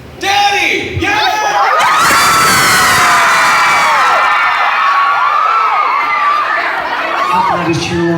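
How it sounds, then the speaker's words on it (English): Loud rock concert crowd at a show at the Nile Theater, cheering, whooping and yelling together in a sustained roar that fills the whole stretch, with shouted voices rising above the mass. "I just cheer along with someone yelling daddy."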